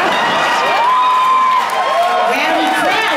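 A large crowd cheers, whoops and shouts continuously at a concert in Northfield, Ohio, a loud, dense roar that holds steady throughout.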